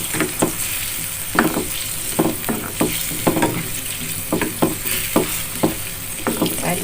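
Cucumber stirred into simmering sardine stew in a pan, bubbling and sizzling throughout with a dozen or so distinct scraping, clinking stirring strokes in an uneven rhythm, close and fairly loud.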